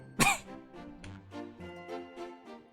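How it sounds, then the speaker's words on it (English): A sharp, close cough from a Corpse Party game character followed by several smaller, raspy coughs and throat-clearing sounds in an uneven rhythm. "he's on the ground coughing up blood still"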